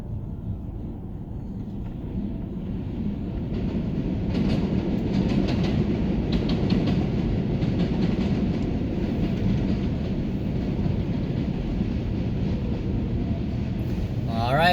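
A 7 train runs on the elevated line at Junction Boulevard station over Roosevelt Avenue in Queens: a steady low rumble that swells and holds, heard from street level inside a moving car.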